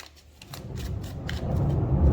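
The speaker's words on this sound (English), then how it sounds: "One more shuffle." Tarot cards are shuffled by hand, producing a soft, continuous riffling and rustling that builds slightly louder toward the end, close and alone.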